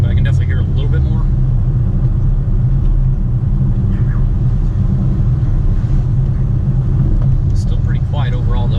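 A VW Touareg fitted with cone air filters drives along, its steady low engine drone and road rumble filling the cabin while faint voices come and go over the top.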